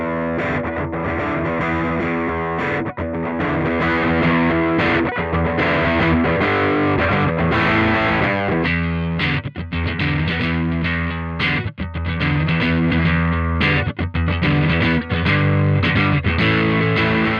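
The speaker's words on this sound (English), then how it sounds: "how a condenser mic sounds on an electric guitar" Distorted electric guitar recorded through a Neumann U67 reissue condenser microphone, playing loud sustained chords and riffs with a chorus-like shimmer, steady and full with brief breaks between phrases.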